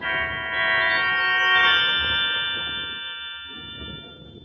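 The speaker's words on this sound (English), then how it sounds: "I rang the doorbell." A doorbell rings at a house door, a sustained bright electronic chime with layered tones that swells and then slowly fades over several seconds, heard alone with no talking.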